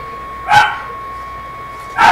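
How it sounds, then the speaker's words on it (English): A dog barks twice inside a Fortnite Snowdown Shuffle game, two short sharp bursts about a second and a half apart over a steady electronic tone. "Evie, stop making the dog bark"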